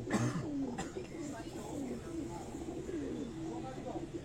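Pigeons coo softly on a rooftop in Kasur, low rolling calls repeating through the clip over a busy background of outdoor noise and faint voices.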